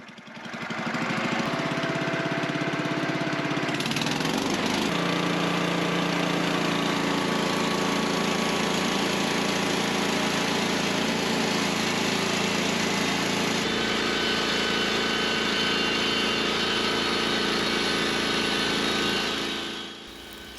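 A small bandsaw mill's engine running steadily at close range, a continuous droning rumble that shifts pitch slightly partway through, then cuts off at the end, with no voices.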